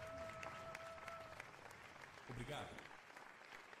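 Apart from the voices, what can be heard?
crowd applause in Spider-Man video game cutscene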